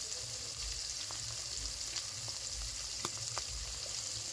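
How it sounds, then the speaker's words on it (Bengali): Fish frying in mustard oil in a wok, a steady close sizzle with small crackles and pops throughout, no voices. "মাছগুলো কড়াইতে দিয়ে দিয়েছি আর মাছটা ভালো করে ভেজে নিচ্ছে"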